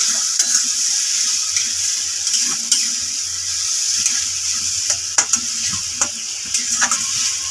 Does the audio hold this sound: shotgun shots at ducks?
no